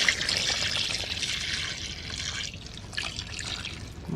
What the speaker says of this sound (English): We're going to add more broth, water, well, more water.